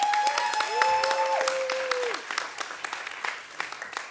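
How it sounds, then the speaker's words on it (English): An audience at a young water professionals' debate claps for a speaker taking the floor. The applause starts strong and thins out gradually, with a few sliding whistle-like tones near the start. "Could we have a round of applause"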